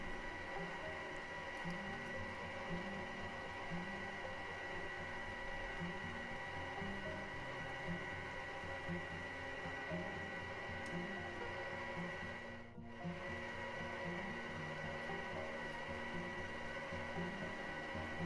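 A Karaca Multichef 1400 W food processor whirs steadily while mixing cookie dough ingredients, a continuous motorized hum with churning texture and a brief dip near the end.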